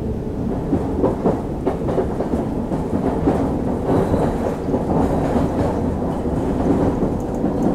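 A London Underground train in London Underground Simulator rumbles along the track, a loud, dense, steady roar with rattling texture throughout and no voices.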